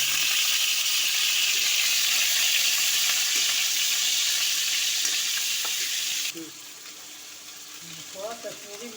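Paneer frying in hot oil in a kadai: a loud, close, hissing sizzle for about six seconds that drops abruptly to a quieter crackle, with faint clinks and a brief voice near the end.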